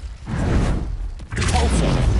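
Spell blasts in the Hogwarts Legacy video game, a loud broadband burst after a brief lull that swells into a sustained roaring whoosh and rumble, close and filling the scene.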